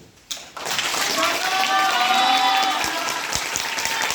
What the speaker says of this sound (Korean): 저희가 박수를 한번 보내드리죠